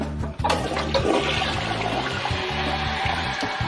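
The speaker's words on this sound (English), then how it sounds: "Now I'm going to flush the loo." A household toilet flushes close up, a loud rushing gush of water that holds steady for several seconds without talk.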